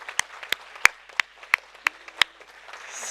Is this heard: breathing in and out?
no